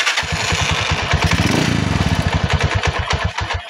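A rough, close engine with a Kubota-like sound runs loudly with a fast, steady chugging pulse, its clatter swelling briefly in the middle, with no voices over it.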